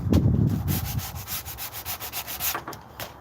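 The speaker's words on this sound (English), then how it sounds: "I just grind away the rust" Rust being ground off an iron spear by hand, a close, loud rhythmic rasping of about a dozen even back-and-forth strokes, heavier at first and then settling into a steady scrubbing pattern, with no speech.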